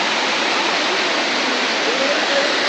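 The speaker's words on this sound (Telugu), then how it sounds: "చూడండి కొండల నుంచి ఎలా వస్తున్నాయి నీళ్ళు" A waterfall of water running down from hills gives a steady, loud, close roar of rushing water that stays even and continuous throughout.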